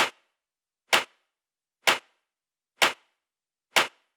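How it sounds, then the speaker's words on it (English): Five sharp, punchy claps land at an even, steady pace with silence between them. Each is a clap sample layered with a snap and thickened with overdrive and EQ. "also I did a snap to layer the clap a little bit. Also an overdrive here and an EQ8."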